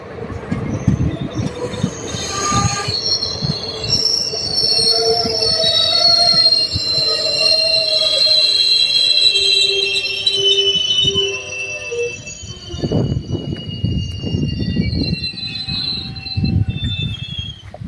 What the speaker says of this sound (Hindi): ये आ रही है रेवाड़ी की साइड से ये ट्रेन आती है